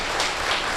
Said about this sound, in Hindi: आपको अगर गीत पसंद आ रहा हो तो एक बार संवेद स्वर में तालियां बजाकर सूचित कर दें